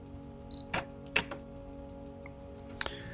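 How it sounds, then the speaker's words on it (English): A Canon EOS 7D Mark II fires its shutter at 1/1000 s, giving a few crisp, close mechanical clicks spaced apart against a quiet room. "I'm going to put my spinner in motion and take another photo"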